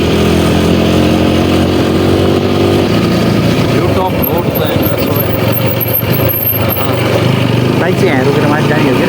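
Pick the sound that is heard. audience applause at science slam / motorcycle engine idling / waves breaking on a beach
motorcycle engine idling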